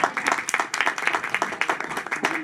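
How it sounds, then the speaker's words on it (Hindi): Audience applause at a Christmas drama and prize-giving for children in Rawalpindi, a dense, steady patter of many hands clapping close by for the whole stretch, with no talk over it. "तालियां।"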